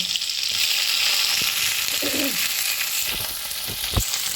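Garlic cloves and green chilies fry in hot oil in a pan, giving a steady, close sizzle throughout with a few brief utensil knocks and pops near the end, no talking.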